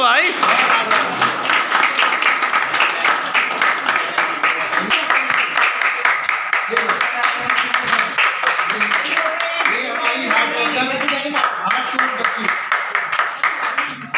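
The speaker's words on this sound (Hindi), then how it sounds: "अरे तालियां बजाओ भाई।" An audience at a Diwali gift event claps continuously for the whole stretch, a dense, steady patter of many hands, with voices talking and calling out over it.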